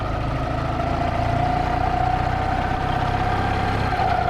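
A 1995 Ural Tourist sidecar motorcycle engine runs steadily in second gear, a close, even low rumble with a faint whine and no clear revving.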